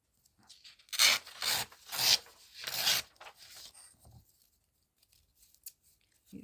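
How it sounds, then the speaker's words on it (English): Scissors trim the paper edge of a junk journal belly band up close in several rough snipping and rasping strokes, then give way to faint rustles and quiet handling. "Again, just going to trim up that edge"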